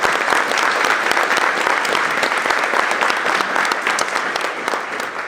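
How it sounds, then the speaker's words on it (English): Audience at a nonprofit advocacy breakfast giving a round of applause, loud continuous clapping from a large crowd lasting several seconds with individual claps crackling through. "please join me in a round of applause thanking the group"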